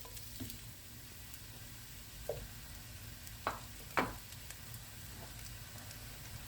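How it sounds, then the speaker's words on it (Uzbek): Eggplant, bell pepper and mushrooms for chicken and vegetable fritters are partly fried in a pan, giving a faint, steady sizzle broken by a few sharp clinks of stirring, with no talk. "Hozir baqlajonni, bolgarskini, qo'ziqorin, gribini chala qilib qovurib olamiz."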